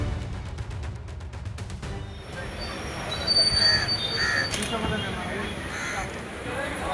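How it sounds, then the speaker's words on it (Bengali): A passenger train pulls into Bhagwangola station on the Indian side of the Padma during the Eid travel rush, its wheels rumbling and squealing steadily with a crow cawing and crowd talk mixed in. "ট্রেন দিয়েছে 2 নম্বর প্ল্যাটফর্মে"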